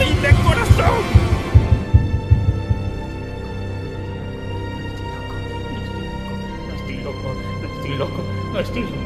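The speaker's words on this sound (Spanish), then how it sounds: "He ahí el latido de su horrible corazón." Deep, rhythmic heartbeat thuds throb at the start, booming over a low droning hum, then fade into a steady murky rumble with faint pulses returning near the end.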